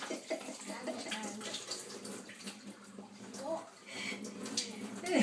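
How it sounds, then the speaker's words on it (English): Water rushes and splashes as rice is drained in a kitchen sink for Iraqi Assyrian-style kabsa, a steady running-water wash under faint background noise. "I have to drain the rice."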